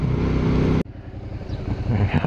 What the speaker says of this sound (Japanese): この停車してる時のどこどどこどこ音がね